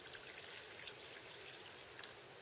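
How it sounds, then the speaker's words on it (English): Water is tipped from one plastic tub into another, a soft continuous pouring and trickling splash with a few small drips, heard close but quiet and without speech. "So I'm just going to tip some of this water into here."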